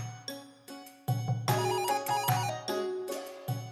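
A telephone rings after a redial, a repeating electronic ringtone pattern of tonal bursts that sounds fairly close and clear, with no talking over it.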